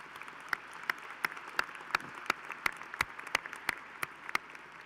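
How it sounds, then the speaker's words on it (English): Sparse, fairly quiet applause from the audience at a Texas Tech University ring ceremony, with individual claps popping out at an irregular, roughly twice-per-second pace over a soft room background. "Let's give everyone a round of applause."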